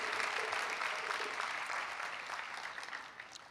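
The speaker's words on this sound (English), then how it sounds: "Another round of applause for Dr. Bonds, please." Applause from a commencement ceremony audience, a dense continuous wash of many hands clapping that stays loud throughout and tapers slightly toward the end.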